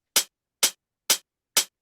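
Two layered closed hi-hat samples in Ableton, one with extra low-mid body, struck together four times at an even bouncing pace, crisp and short, alone.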